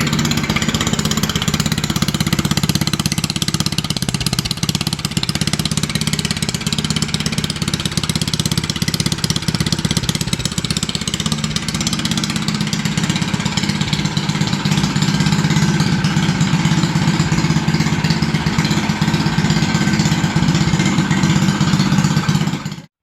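A minibike engine idles continuously through a loud, raspy exhaust, a steady buzzing putter that holds for the whole stretch before cutting off at the end.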